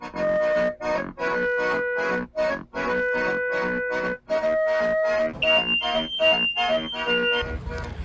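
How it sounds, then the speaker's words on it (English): A fire alarm set off by deodorant spray shrills in loud repeating tonal beeps and pulses with short gaps, heard close by and with no talk. "I accidentally set the fire alarm off"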